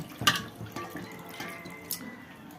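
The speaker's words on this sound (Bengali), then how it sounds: "এই বড়িগুলো ধুয়ে নিলাম, লঙ্কা, ধনিয়া পাতা সব ধুয়ে নিব।" Jujube berries, chillies and coriander leaves are washed in water, with a few close splashes and drips over a faint running trickle. The bursts are brief and there is no talk.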